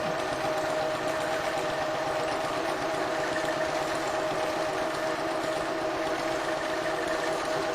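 A Janome 1600P sewing machine runs nonstop at high speed while quilting on a Grace frame, giving a steady, even mechanical whir that fills the whole stretch at a constant level.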